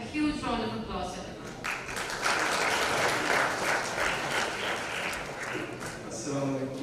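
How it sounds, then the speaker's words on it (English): Conference audience giving a round of applause, steady dense clapping across the hall at moderate loudness, with a voice speaking over the start and end of the clapping. "round of applause, everyone."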